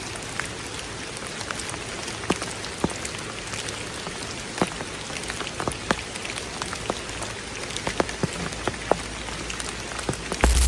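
Steady rain falls on a flooded forest, a dense continuous patter with sharp individual drops striking close by and a soft hiss underneath, with no voices.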